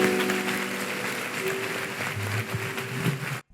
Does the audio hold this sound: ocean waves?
no